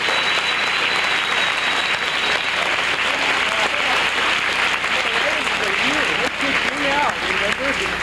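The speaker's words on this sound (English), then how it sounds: "Would you give all the competitors a nice round of applause?" Steady audience applause for the competitors at a 1995 Boogie by the Bay awards ceremony in San Francisco, a loud, dense clapping that runs unbroken throughout, with scattered cheers and voices rising near the end.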